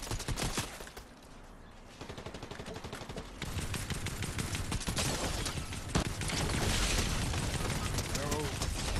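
Cannon and gunfire in a multiplayer shooter game battle, dense bursts of shots and booms throughout, with voices talking over the action.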